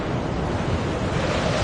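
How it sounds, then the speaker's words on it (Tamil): Storm wind gusting over crashing ocean waves, a dense, steady roar with no pauses over a short stretch. "இந்த மாதிரி புயல் காத்து அடிக்கும் போது எப்படி நாம பவரை ஷட் டவுன் பண்றது?"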